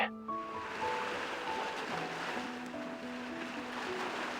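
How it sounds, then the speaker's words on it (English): Soft, continuous wash of ocean surf in the Love and Deepspace game, a steady low hiss of waves heard faintly behind sustained musical tones. "why do I hear waves on your end?"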